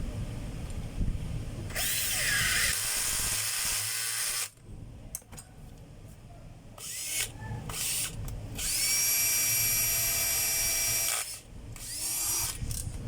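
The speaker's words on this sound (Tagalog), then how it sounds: "Try natin drill mga kabay." A DeWalt DCD730 cordless drill whirs loudly and close in several bursts, its motor spinning up, holding and then stopping between runs, with short quiet gaps.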